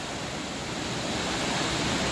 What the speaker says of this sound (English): So a few more minutes, and we'll be to our first waterfall.